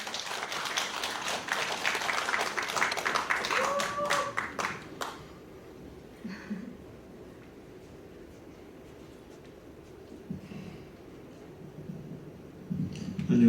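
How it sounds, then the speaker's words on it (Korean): Audience applause welcoming a poet at the founding general meeting of a Korean digital-poetry association's Jeju branch, a burst of crisp clapping for about five seconds that dies away into a quiet room with faint shuffling. "복효근 시인님을 큰 박수로 맞아주십시오"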